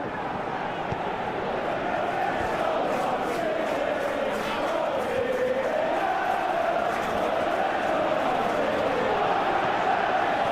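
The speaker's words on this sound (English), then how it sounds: "you can hear how the crowd are reacting to this too" A large stadium crowd in an eFootball video game roars and murmurs continuously at a steady level, swelling slightly at moments, with a commentator's voice faintly mixed in.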